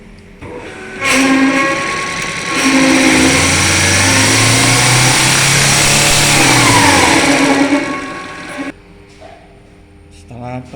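A diesel fuel injection pump for a Colt Diesel Canter 125 PS runs on a test bench, its whine rising in pitch as it speeds up, holding high revs, then dropping back to a low hum.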